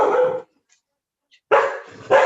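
A pet dog barks loudly and close by, one bark, a pause, then two more quick barks in succession.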